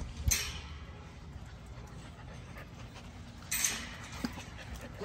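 Several lilac tri XL American Bully dogs pant quietly nearby, with soft rhythmic breaths and two brief louder huffs.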